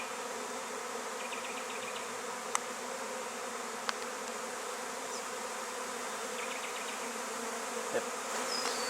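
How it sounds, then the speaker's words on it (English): Beekeeping hive inspection with bees buzzing densely around an opened hive, a steady close-up hum with a few sharp clicks of handling and faint passing buzzes, no talking. "That's what happens with a pile of bees."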